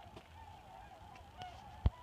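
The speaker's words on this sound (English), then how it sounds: "Those are all geese." Migrating geese calling from a long flock in flight, a faint steady wash of distant honks with one sharper, louder call near the end.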